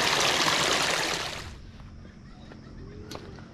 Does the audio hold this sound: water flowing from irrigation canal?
yes